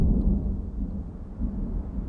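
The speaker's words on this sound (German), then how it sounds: "Ja, ich liebe ja Gewitter" Low, continuous rumble of thunder from the video game The Lion's Song, a sustained booming roll that stays steady throughout with no voices over it.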